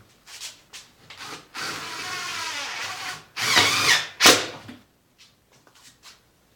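A cordless drill driver in third gear drives screws into a board, with several whirring bursts of a few seconds each, separated by short pauses and rubbing contact noise, loud and close.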